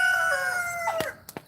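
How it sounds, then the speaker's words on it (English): Roosters crow nearby, one long drawn-out cock-a-doodle-doo that wavers and falls in pitch, followed by a couple of short clucks. "We have dueling roosters"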